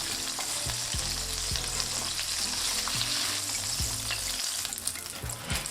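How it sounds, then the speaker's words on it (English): Breaded chicken tenders sizzle and crackle steadily in hot oil, with occasional scraping and clinking of a utensil stirring the pan. "Here I'm also frying some of the leftover chicken tenders."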